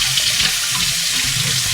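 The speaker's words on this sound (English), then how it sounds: "So you want to run it in hot water." Hot tap water runs steadily over a toothbrush being rinsed, a continuous close hiss and splash with no talking.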